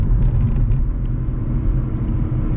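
A Kia Rio with a 1.4 four-cylinder engine revs at night, giving a steady, deep rumble close by that swells slightly and holds without a break.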